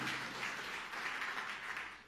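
Applause from a church congregation during a sermon, a steady broadband patter of many hands clapping continuously at moderate level, with no talking over it.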